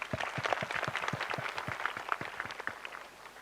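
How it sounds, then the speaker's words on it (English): An audience applauds at a talk on writing by a Nobel laureate, a steady burst of many hands clapping close by that carries on for a few seconds and thins out toward the end. "Another big round of applause for"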